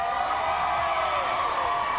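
A high school pep rally crowd roars in a steady, dense wash of cheering that fills the whole moment without letup, loud and enveloping.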